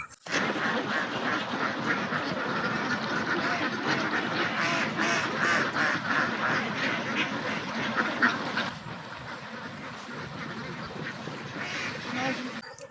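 A flock of ducks at a duck farm quacking continuously and loudly, a dense overlapping clamour that eases slightly toward the end, with a voice faintly mixed in.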